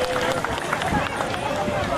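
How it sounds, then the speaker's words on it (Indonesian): An audience applauds at a North Nias ceremony marking its international surfing event, a steady dense patter of many hands clapping, with a voice speaking over it. "Tepuk tangan untuk itu Bapak dan Ibu."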